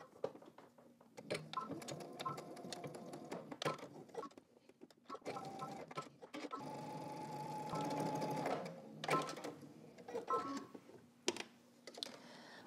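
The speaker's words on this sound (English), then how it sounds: "now I'm gonna move down and I'm gonna stitch just between my two dots" Home sewing machine stitching a short seam between two marked dots on a garment, with bursts of rapid mechanical chatter, brief stops and handling clicks, close and fairly quiet.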